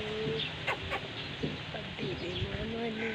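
Chickens cluck in short, scattered bursts over a steady farmyard hum, fairly close, with a voice chattering in the background.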